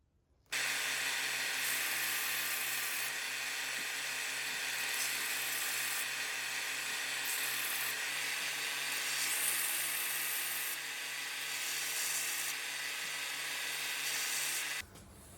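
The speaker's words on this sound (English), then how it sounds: "I'm going to run it on this belt sander." Belt sander running steadily while a homemade fret crowning tool is shaped against it, a continuous loud whining grind with faint changes in pitch as the metal presses on the belt, starting and stopping abruptly.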